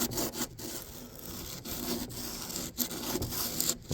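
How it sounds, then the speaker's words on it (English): Sandpaper rubs steadily over a 3D-printed 1/6 scale 1966 Batmobile body in a continuous rasping scrape, close to the mic, broken by brief pauses between strokes. "This is the first around with sanding it, so it's going to take a little bit to get in there."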